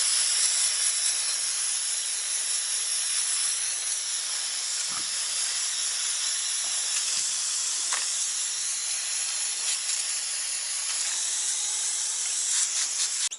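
Brake cleaner hisses from an aerosol can onto a bare RB25 crankshaft, a steady close spray lasting the whole stretch with a few brief clicks and knocks underneath.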